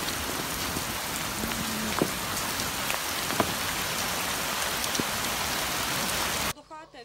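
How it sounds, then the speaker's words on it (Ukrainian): Heavy hail and rain hammer down outside a house, a dense, loud, continuous roar of drops striking surfaces with scattered sharper impacts, cutting off abruptly near the end. "Жителька цього будинку показує відео, яке вдалося відзняти під час граду."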